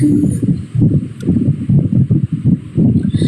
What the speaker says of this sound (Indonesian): ya nggak masalah kalau ada suara kipas